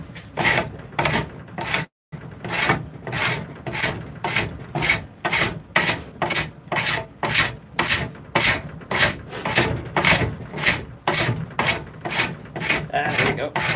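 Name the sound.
hand rasp filing a forged spoon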